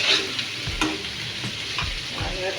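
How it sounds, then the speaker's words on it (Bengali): Turmeric powder and other food sauté in hot oil in a pan for a Bengali shrimp and Malabar spinach dish, giving a close, steady crackling sizzle with soft low thuds and scrapes from stirring. "আমার একটু ভালো করে তেলের সাথে এটা একটু কষিয়ে নিচ্ছি।"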